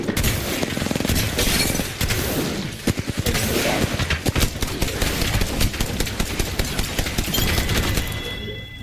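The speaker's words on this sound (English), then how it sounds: "Oh, they're shooting at me" Enemies shoot at the player in the video game Apex Legends: sustained, close automatic fire rattles almost nonstop, with sharp individual cracks and brief gaps breaking up the barrage.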